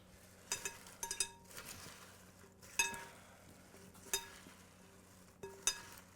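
Baby kale salad tossed by hand in a bowl gives soft rustling and quiet crinkling, with several brief clinks as the bowl knocks, all faint and without talk.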